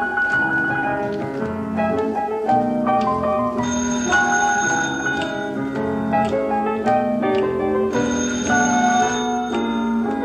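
Telephones ring with melodic tunes during a school stage show. Bright bell-like notes change pitch in quick succession and overlap in a continuous, moderately loud stream.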